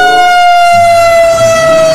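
A toy fire truck siren wails steadily, a bright electronic tone that holds for the whole stretch, loud and close with a faint hum beneath.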